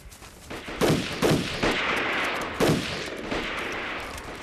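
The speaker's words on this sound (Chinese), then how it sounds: "枪声是从对面山坡上传过来的。" Gunfire from a war film set against Japanese troops echoes across a hillside, a few loud sharp shots followed by a burst of rapid fire with reverberant tails, and no voices.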